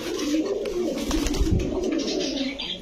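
Many red Chila pigeons coo continuously in a wholesale pigeon shop selling Pakistani Giribaz and racer birds. A dense, steady, low murmur fills the space close by.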